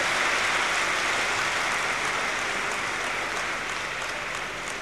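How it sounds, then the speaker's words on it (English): An audience applauds trainee teachers at a spiritual gathering, a steady, dense wash of clapping from many people that sounds like rain and stays even before easing slightly toward the end. "you should all clap for these teachers"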